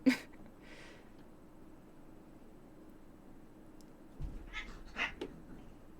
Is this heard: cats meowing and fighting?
yes